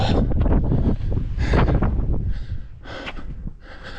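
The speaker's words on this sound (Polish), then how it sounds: "Wieje mocno, zimno mocno" Strong, cold wind buffets the microphone on the summit of El Teide at 3715 metres, a loud, continuous roaring rush with gusty surges and no voices.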